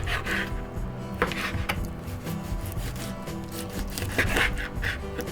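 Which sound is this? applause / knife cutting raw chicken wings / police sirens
knife cutting raw chicken wings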